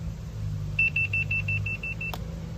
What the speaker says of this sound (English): Press the horn.